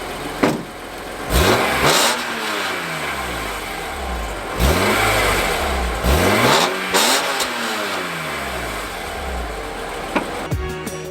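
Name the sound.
BMW E46 M3 engine revving, exhaust sound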